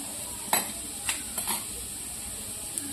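Ground spices (turmeric, red chili powder, garam masala) sizzle in a pan over low flame while being stirred for aloo tikki, a steady soft fry broken by a few spatula scrapes and clinks.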